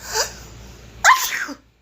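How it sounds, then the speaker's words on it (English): A single sharp sneeze, preceded by a brief inhaled build-up, close and loud, with no talking. "oh my goodness, I might sneeze"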